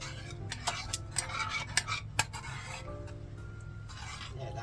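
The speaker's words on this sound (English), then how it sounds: "We're going to mix that around, almost like a paste" A spoon stirs a homemade spice mix into a paste, giving a string of sharp clinks and scrapes against the bowl, steady and close, with no talking.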